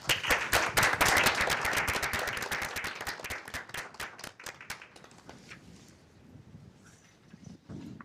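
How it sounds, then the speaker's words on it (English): Applause from a modest audience at a school committee meeting, distinct individual claps loud at first then thinning and fading over several seconds until only a few scattered claps and room noise remain. "I'm not worthy of applause, but Cynthia is."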